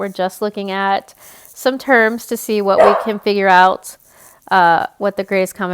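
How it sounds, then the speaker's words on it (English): A dog barks in the background, a brief burst of barking partly buried under steady close-up talk from a speaker working through a math lesson. "you can hear my dog barking"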